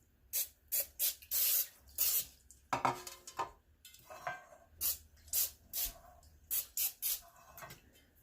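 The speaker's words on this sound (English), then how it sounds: "I'm just going to give this a slight little spray on the sides." Cooking spray aimed at the sides of a cake pan for a chocolate espresso cake, heard as a run of short, sharp aerosol hisses in an uneven rhythm, close and fairly loud.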